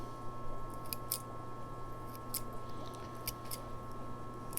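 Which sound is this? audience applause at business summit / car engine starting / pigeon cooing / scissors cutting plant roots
scissors cutting plant roots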